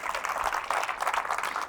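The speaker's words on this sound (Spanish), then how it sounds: "Claro, denle un fuerte aplauso." A church congregation applauding, a dense continuous patter of many hands clapping at moderate distance, steady and unbroken throughout.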